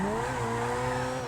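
Grotti Turismo R sports car in GTA Online, its engine holding a steady high whine with harmonics gradually rising as it drives, close and alone.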